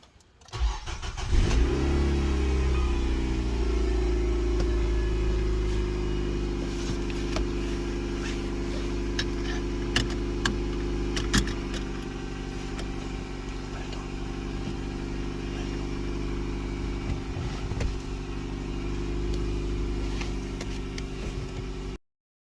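Nissan Qashqai cranks briefly, catches and settles into a steady, close idle that drones on for the rest of the stretch, with no talk over it.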